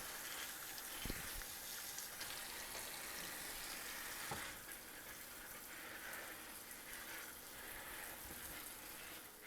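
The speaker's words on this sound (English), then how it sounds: "I'm just going to dump my blackberries and my strawberries into a colander," Running water from a tap pours over blackberries and strawberries in a colander, making a steady hissing rush with a couple of soft knocks, fairly faint and with no talking.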